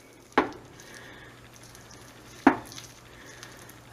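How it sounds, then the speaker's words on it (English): A spoon knocking against a pot while marshmallow cream is stirred into fudge, two sharp clinks about two seconds apart with quiet scraping between and a third starting at the end. "Okay, so I'm going to stir this in."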